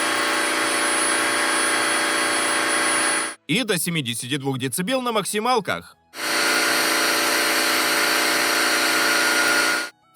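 Loud, steady Atvel F35 Totalclean wet vacuum cleaner hum at high power running close by, cut off briefly by someone speaking, then resuming at the same level.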